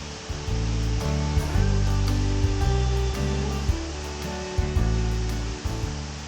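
Steady, full roar of Wachirathan Falls on Doi Inthanon seen from a high viewpoint, continuous rushing water under a layer of sustained tonal music throughout.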